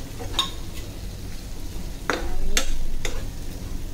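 Mackerel masala fries in oil in a pan over a gas flame with a soft, steady sizzle. A spoon stirs and scrapes it, giving several sharp metallic knocks spaced apart, with no voices.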